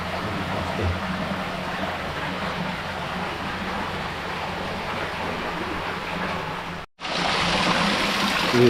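Water circulates through a koi pond filter in a steady, close rushing trickle that runs evenly, cuts out briefly near the end, then resumes.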